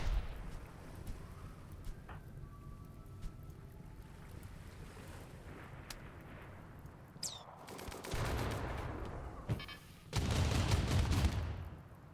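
Turret gunfire against mechanoids in the colony game Rimworld: scattered faint pops and clicks over a low ambient rumble, then two dense, noisy bursts of rapid fire toward the end.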